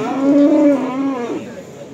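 Simmental cattle at a cattle market in Jatirogo, a single loud, close drawn-out moo lasting over a second, then trailing off.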